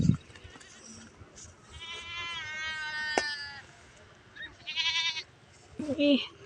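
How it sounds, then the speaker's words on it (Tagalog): A goat bleats in a drawn-out, wavering cry, followed by a couple of shorter bleats, with faint voices and background noise around it. "May kambing."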